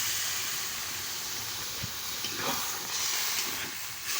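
Water poured into a hot pan of spinach chachchari gives a steady, loud broadband hiss of steam that holds for several seconds with small swells, and no one speaks.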